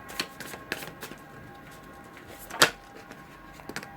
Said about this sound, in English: I'm going to draw you 1 outcome card for February.